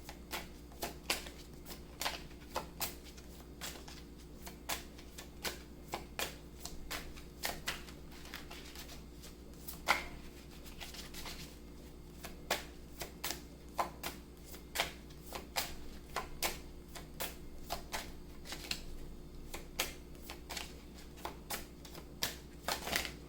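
Tarot cards being shuffled for one more draw in a reading, a long run of quick, faint riffling snaps and flicks close by over a low hum, with no talking.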